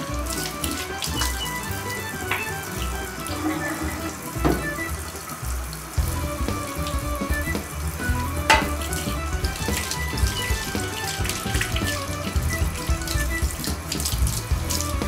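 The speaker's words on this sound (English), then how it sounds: "Once again, I will wash my spoon again, even though I just washed it." A spoon used for stirring a homemade wine batch is rinsed under a running tap, with water splashing steadily and close by and occasional clinks against the sink, and no speech.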